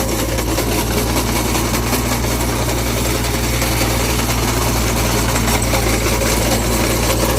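A small grass-cutting engine runs continuously at a steady, buzzing drone, loud and close, with no change in pitch and no voices.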